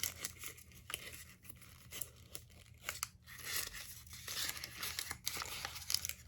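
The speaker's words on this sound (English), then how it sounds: "So just fold your cupcake liner in half like I always do." A paper cupcake liner is folded in half by hand, producing soft crinkling and crumpling rustles in bursts, close and fairly quiet, with no talking.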